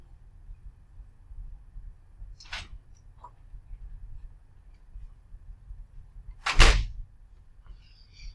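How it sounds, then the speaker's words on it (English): A room door being shut, with a faint swish about two seconds in and then a single louder thud and click of the door closing near the end, over a low steady background hum. "Hang on a second, I'm going to shut the door."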